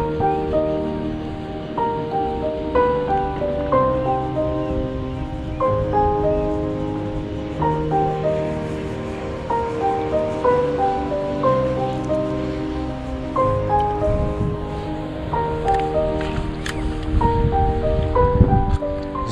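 Choppy water laps and splashes on a swamp during spinning fishing among weeds, a steady wash of small waves close by with a brighter splashy burst near the end.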